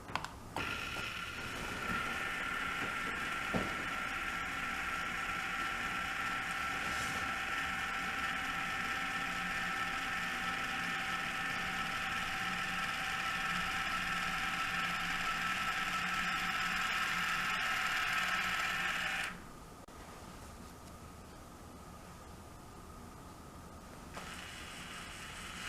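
A Bulldog valve actuator fitted to a 1/2-inch Sharkbite-type valve runs a test stroke, giving a steady mechanical whine and hum for about twenty seconds before stopping abruptly, with a faint click near the start.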